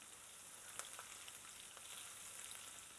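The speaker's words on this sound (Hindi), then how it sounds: "इसको हम हल्का सा फ्राई कर लेते हैं" Onion, ginger and garlic sizzle quietly as they lightly fry in a pan, a soft steady crackle with a few brief pops, faint and close, with no talking.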